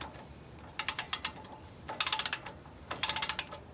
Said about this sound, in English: You're gonna torque until you hear the click, and you're looking for 89 pound feet.